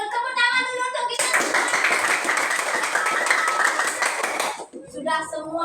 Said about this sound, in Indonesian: Betul, tepuk tangan dulu untuk kita.